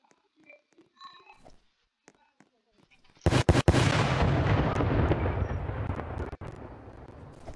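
Loud explosion in the Roblox racing game, a sudden broadband blast with a couple of sharp cracks that then rumbles on steadily and slowly fades, following a few seconds of quieter game sounds.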